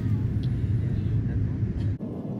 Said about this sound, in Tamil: ஸோ நல்லபடியாக சேஃபாக லேண்ட் ஆகிட்டோம்